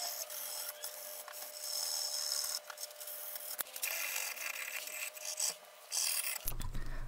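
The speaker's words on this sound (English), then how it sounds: "I also put a groove all the way around just using a rat tail file" A rat tail file rasps a groove around a natural oak slingshot in steady, close back-and-forth strokes, a dry scraping texture with a brief pause midway.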